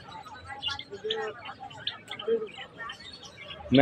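Small caged birds at a bird market that sells cockatiels and java sparrows chirp and tweet in quick overlapping bursts, fairly close, mixed with people talking in the crowd.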